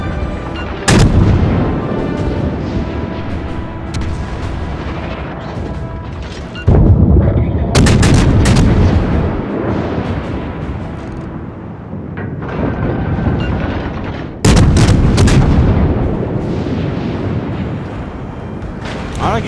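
Warships in the naval game World of Warships fire artillery in three heavy booming salvos, each a sharp loud blast followed by a long rolling rumble that fades before the next.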